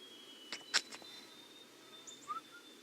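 Birds sing in the countryside of the video game Tales of the Shire, a few faint chirps and a brief whistled call over a quiet background hum.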